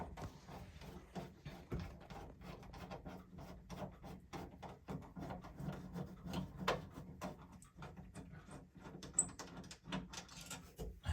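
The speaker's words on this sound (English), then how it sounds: "So then we're just going to be removing the two screws." A screwdriver backing out the two screws of an outlet faceplate, a close, quiet run of rapid scraping ticks and rubbing squeaks with no voices.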